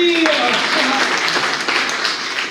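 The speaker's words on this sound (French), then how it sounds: "Bravo, on peut l'applaudir." Audience applause at a live quiz event in Mulsanne, dense clapping from a crowd that follows a brief voice at the start and fades slightly toward the end.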